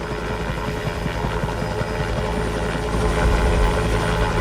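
A helicopter drones steadily overhead, its continuous rotor and engine roar loud and close throughout, with a rhythmic low thumping that swells slightly toward the end.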